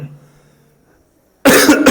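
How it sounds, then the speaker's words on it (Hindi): A single loud, harsh cough bursts in near the end of a quiet room recording, close to the microphone and abrupt, with nothing else heard. "अरे यार खांसी बहुत है ना।"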